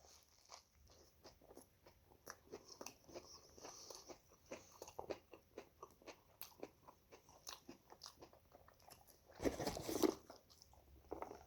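Close, crisp biting and crunching on a battered soft shell crab burger with a crunchy, slightly greasy batter, a steady run of chewing crackles and one louder burst of crunch near the end.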